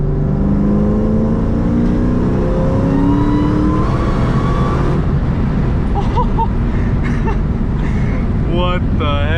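A 700+ horsepower Ford Terminator Cobra accelerates hard, its loud engine note climbing through a pull with wind rush, while people talk over it inside the car.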